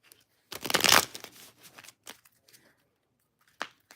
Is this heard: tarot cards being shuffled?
yes